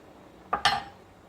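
A spoon knocks twice against a pot of lentil soup with onion, two quick metallic clinks close together, close and fairly clear against a quiet background.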